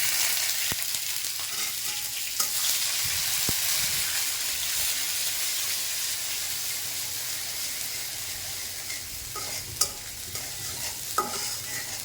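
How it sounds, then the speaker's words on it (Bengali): Grated coconut frying in a pan with mustard seeds and red chillies, a steady close sizzle broken by scraping stirs and a few sharp clinks of the spatula, no voices. "নারকেল ভাজা ভাজা"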